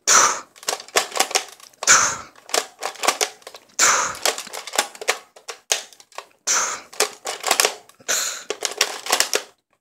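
A toy gun, not a real firearm, fires in rapid bursts of sharp snapping clicks, several quick shots per burst, separated by short pauses and a recurring rattling pull-back sound between volleys.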